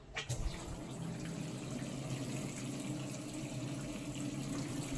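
Tap water pours into a washing machine filling for a load of laundry, a steady, close, gushing flow that holds evenly from start to finish with no one speaking.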